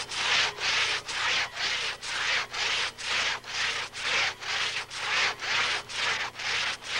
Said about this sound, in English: With the crosscut saw, 2 men could fall the mightiest of trees.